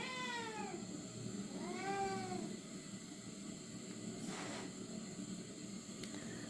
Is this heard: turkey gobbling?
no